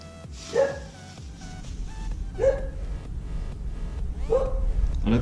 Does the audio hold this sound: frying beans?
no